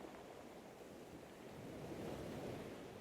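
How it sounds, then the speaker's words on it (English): Soft ocean surf breaks gently on a beach, a faint, even wash of water that rises a little partway through, calm and continuous with no one speaking. "The waves are still gentle."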